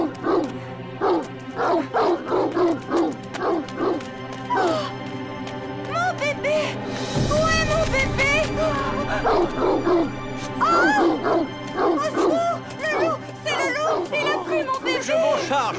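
A cartoon dog barks and yips in quick repeated bursts, loud and close, with a whimpering stretch in the middle and a voice or music under it from an animated children's fairy-tale show.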